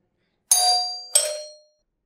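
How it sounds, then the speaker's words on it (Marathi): A doorbell rings with two clear electronic chimes in quick succession, the second following about half a second after the first, each decaying briefly in an otherwise silent room. "अरे किती बेल वाजवताय"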